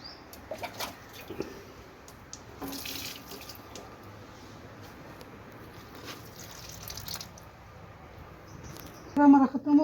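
Water running from a tap or hose to water garden plants such as aloe vera and chilli plants, a steady, gentle outdoor splashing with a louder gush near the end and faint voices in the background.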